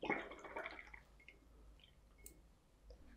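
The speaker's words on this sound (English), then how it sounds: "I wash my brush all time." A paintbrush is swished and rinsed in a water jar, giving a short burst of sloshing and dripping at the start, then quiet faint drips and clicks.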